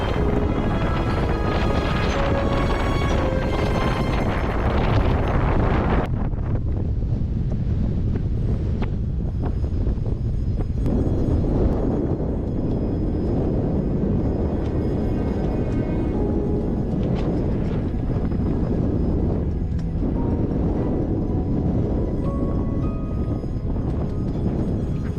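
Strong gusts of up to 30 knots roar across the microphone while sailing off Bora Bora, a loud, continuous buffeting that eases slightly partway through, with water and boat noise beneath.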